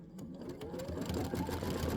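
A sewing machine stitches fabric in a steady, close, fast mechanical whir with a regular pulsing rhythm, running alone throughout.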